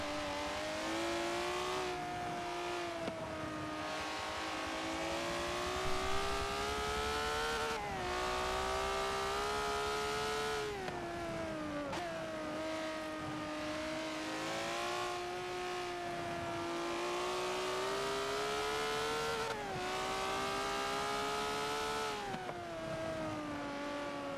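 Race car engines in Forza Motorsport 7 drone loudly and continuously, rising in pitch through the gears, dipping at each shift and easing into turns, with no voices heard.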